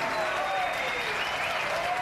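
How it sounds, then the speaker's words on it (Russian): A boxing arena crowd applauds the referee in the ring, a dense, continuous wash of clapping and cheering with a whistle-like tone rising above it. "Ваши аплодисменты судье на ринге."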